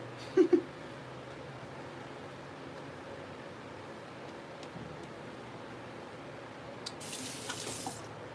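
Water from a tap rinses a shaving brush, a soft, steady trickle and splash heard close and quiet, with a couple of brief knocks near the start and a louder gush of spray toward the end.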